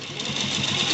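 Sewing machine running a stitch along the edge of a kurta collar, a brief steady close whirr with no one talking.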